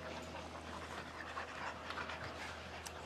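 A French bulldog pants steadily and close by, a dense, continuous run of quick breathy rasps with no voices over it.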